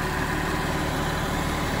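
Engine of an RMX Agro AR5204ES tractor running steadily, a dense continuous rumble with no pauses, close and fairly loud, no talk.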